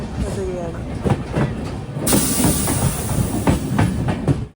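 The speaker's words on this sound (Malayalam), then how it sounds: "12:24 ട്രെയിനിൻ്റെ അടാവലി സ്റ്റേഷനിലേക്ക് എത്തുകയാണ്." Riding aboard the Sindhudurg Express on the Konkan Railway during the monsoon, the train rolls toward Adavali station with loud rhythmic wheel clatter and rumbling carriage noise, with a brief squeal early on.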